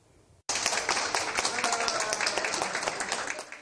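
A crowd applauds as a Tatarstan delegation returning from Riyadh is welcomed, a sudden burst of dense, continuous clapping that starts after a short quiet moment and stays loud throughout.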